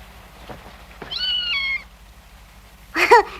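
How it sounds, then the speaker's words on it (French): A cat gives a clear, close meow with a wavering pitch, followed moments later by a second shorter, rougher meow in a quiet room. "Bonne nuit, petit chat. Et ne miaule pas."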